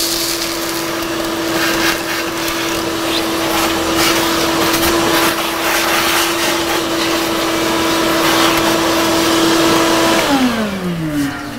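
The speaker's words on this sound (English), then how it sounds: "I want to use my shop vac to vacuum out the ash and debris that's left behind in the fire" A shop vac vacuums ash and debris out of the fire pot of a Pellet Joe pellet grill, a loud steady whining drone running throughout, then winding down at the end.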